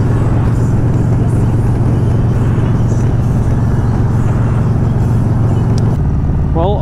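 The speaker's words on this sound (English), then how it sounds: "traffic is pretty bad coming down" A car drives in heavy, rainy traffic heading south toward Tijuana, a loud, constant low engine and road rumble heard from inside the vehicle, with voices talking over the noise.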